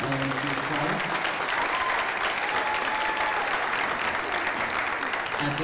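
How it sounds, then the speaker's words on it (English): Audience applause for an elementary school choir at a board meeting, a steady wash of many hands clapping at moderate volume, continuing without a break. "Please give them another round of applause."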